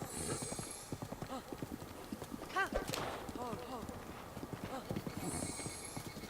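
Hooves of a horse ridden in the video game The Legend of Zelda: Breath of the Wild clop in a quick rhythmic gallop, with a brief whinny in the middle, while a person talks over them throughout.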